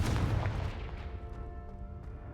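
Blasting-spell explosion in a fantasy video game, a loud booming blast at the start with a rumbling low tail that decays over about two seconds.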